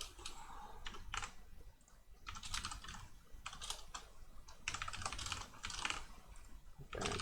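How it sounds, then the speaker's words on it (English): Computer keyboard keys and a mouse are tapped and clicked in quick irregular bursts at close range, with short pauses between runs of typing. "That's me touching my mouse on my keyboard."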